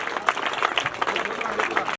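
Clapping from an audience at a youth welcome event for a boxer, dense and continuous for about two seconds with some crowd noise mixed in, then cutting off abruptly.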